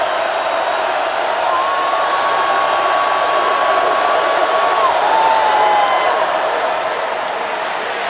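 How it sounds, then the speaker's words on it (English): Loud, steady roar of a large football stadium crowd during a college game between UAB and Georgia. The broad wash of noise holds constant for the whole stretch, with a faint whistle-like tone drifting over it. "Oh, listen to this crowd."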